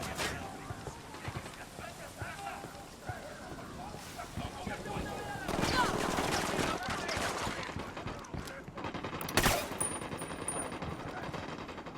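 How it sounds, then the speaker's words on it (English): Gunfire in Ghost Recon Wildlands, rattling automatic shots under voices and wind, building midway with a loud sharp crack near the end. "I'm opening fire on these shitheads."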